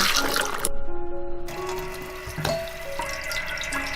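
Tap water runs into a kitchen sink or bowl while dried shiitake mushrooms are set to soak, a steady splashing flow with a few clinks and shifts in the stream.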